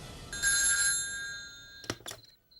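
A telephone bell rings in one sustained burst of bright tones, followed by a couple of sharp clicks in a quiet room, with no talking.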